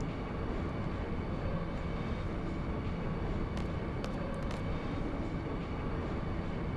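Train interior ambience in the Final Fantasy 8 video game, a steady low rumble and rattle of a moving train with a few faint clicks near the end.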